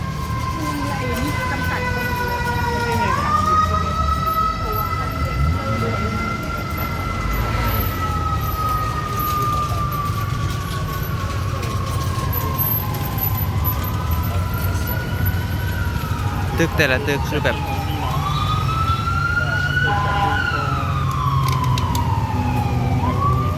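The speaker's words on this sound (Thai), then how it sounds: "ทุกคนพังเสียงรถกู้ภัยแบบสนั่นเมืองนะ" Rescue vehicle sirens wail continuously through city streets after an earthquake, several rising and falling tones overlapping above a constant rumble of traffic while a person talks.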